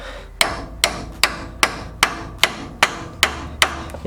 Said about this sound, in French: il n'y a qu'à passer un burin